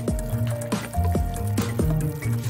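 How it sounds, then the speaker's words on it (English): Thick glue squeezed and poured into an empty pen casing, giving soft wet squishing and dripping sounds in several slow pulses, close and fairly clear with no talk. "Remove the parts from the pen, then fill the casing with glue"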